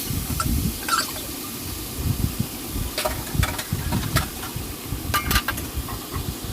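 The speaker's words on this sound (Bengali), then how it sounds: "পালং শাকটা এখন সুন্দর করে আমি নেড়ে চেড়ে দিব" Spinach frying with onion in a pan is stirred, giving a steady sizzle and hiss with scattered scraping clinks of the spoon, close and fairly loud throughout, with no talking.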